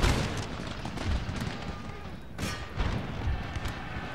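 Cannon and musket gunfire in a Total War Darthmod battle, with repeated booms and crackling shots layered over a continuous din, a few louder blasts standing out, and faint voices mixed in.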